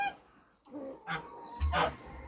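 Turkeys calling in a farmyard during mating, a few short gobbling and clucking bursts close by, separated by quiet gaps, with soft background noise.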